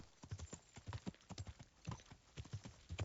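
Horse hooves clip-clop in a steady rhythm through a video game, a horse ridden along a forest path near trees, the footfalls close and even with no talk over them.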